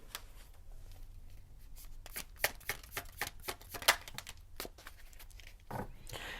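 Tarot cards are shuffled by hand in a series of soft, quick riffles and slaps. The sound is close and quiet, with irregular papery bursts.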